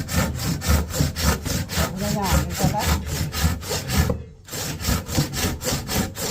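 A hand saw cuts through timber during roof construction in steady back-and-forth strokes, close and loud, with a brief pause near the end before the rhythmic sawing resumes; someone speaks briefly over it.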